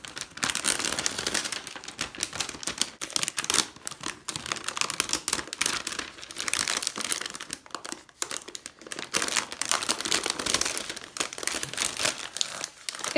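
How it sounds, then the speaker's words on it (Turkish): Continuous crackly crinkling of a plastic bag being handled and pulled off a potted orchid, close and busy throughout, with no speech. "şu kenardan hemen poşetimi bakın çıkarıyorum."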